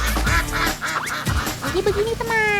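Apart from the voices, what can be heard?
duck quacking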